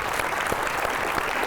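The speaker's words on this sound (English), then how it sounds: "How about a round of applause for these guys?" A short burst of steady clapping for youth football players after a training drill, a small group applauding close by with no talk over it.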